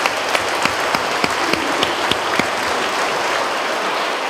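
An audience at a talk on political violence and polarization applauds steadily, a full wash of clapping with a few sharp, distinct claps standing out near the start.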